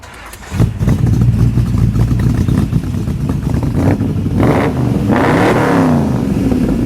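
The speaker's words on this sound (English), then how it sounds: "it's got a pretty sexy exhaust note" A Scaglietti Corvette engine starts and revs loudly through a European-style exhaust, the note rising and falling through several throttle blips, deep and throaty close by.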